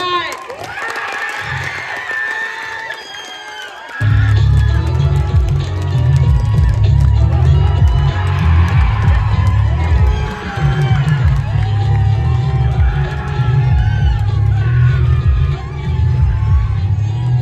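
A mushaira audience gives loud, sustained applause mixed with cheers and whoops to welcome the poets, a dense roar filling the hall after a quieter opening with voices.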